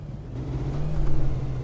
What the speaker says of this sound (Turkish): cidden o motorun sesini alabiliyorum